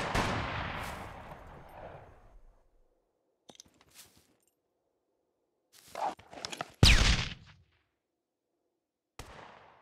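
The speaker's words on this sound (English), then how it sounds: "Let's throw a grenade. And let's throw a flashbang." In the SCUM video game, a grenade blast rolls out first and fades, then after a quiet gap come scattered clicks and a sharp flashbang burst with a couple of smaller cracks, followed by one last short bang.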